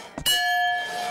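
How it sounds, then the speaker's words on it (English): A short thud from a hammer strength tester game at a fair is followed at once by a clear, ringing bell strike that hangs on and slowly fades. "Test your strength on the old hammer and bell."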